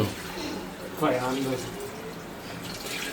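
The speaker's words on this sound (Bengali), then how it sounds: "এখন পানি দিয়ে দেওয়ার পালা" Water splashes and gurgles as it is poured into a pot of khichuri, a short rush near the start of the clip with voices talking around it.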